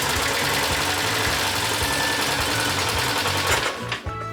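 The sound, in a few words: Citroën 2CV engine starting and running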